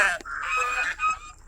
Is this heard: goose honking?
yes